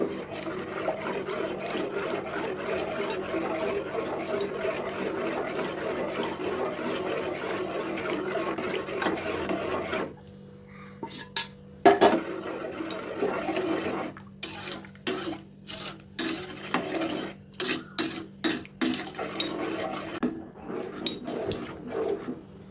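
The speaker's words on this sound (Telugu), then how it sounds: "ఇలా కలుపుతూ ఈ 2 మిశ్రమాలు వేసిన తర్వాత 1 నిమిషం పాటు కలపాలి" A sago and rice flour mixture is stirred in a pot, first with a steady continuous scraping, then with rhythmic, separate strokes against the pot, close and moderately loud.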